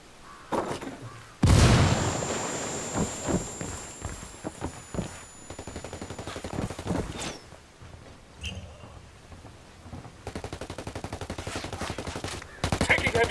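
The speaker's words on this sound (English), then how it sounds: "Taking heavy fire." Heavy gunfire in Ghost Recon Wildlands: dense, rapid automatic bursts and single shots crack loud and close, mixed with a few booms. The firing runs almost without a break, with short pauses between volleys.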